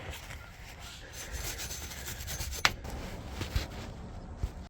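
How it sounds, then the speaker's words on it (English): A wire brush scrubs the mating surface of a broken drive shaft during a U-joint replacement, making a soft, close, continuous rasping scratch with a few small knocks, quiet and without talk. "we're just going to take a wire brush, clean up this mating surface here"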